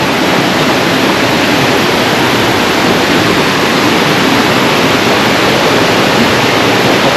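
A waterfall near aul Tkhagapsh by Lazarevskoye, Sochi, pours with a loud, close, unbroken roar of crashing water. No voices are heard.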